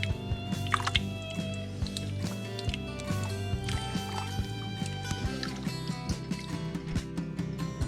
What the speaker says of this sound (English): And a quart of crushed tomatoes.